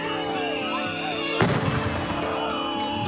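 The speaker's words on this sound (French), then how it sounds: "une première arrestation, suivie de tirs de gaz lacrymogène et de grenades de désencerclement" On a Minneapolis street, tear gas launchers and stun grenades go off, with one sharp loud blast cutting through the crowd's noise and voices before the din carries on.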